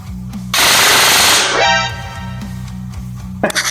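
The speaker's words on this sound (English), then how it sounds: "Well, we got close to 1500 rounds a minute there." A CYMA metal M16A4 gel blaster with a Solink 31k brushless motor rips off one short, loud full-auto burst of about a second, then spins down into a fading whine before a couple of sharp clicks.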